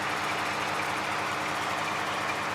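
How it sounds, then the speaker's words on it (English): A Lake Forest fire engine idles at a North Chicago crash scene as crews clean up, giving a steady, continuous low rumble with broad engine noise throughout, with no talk over it. "this is a Lake Forest fire engine now"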